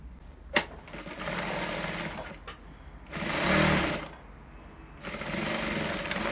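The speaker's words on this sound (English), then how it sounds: "you're going to sew your dart with half inch" A sewing machine stitches a half-inch dart on a corset dress in loud sustained runs, with a sharp knock near the start and brief pauses between three bursts of stitching.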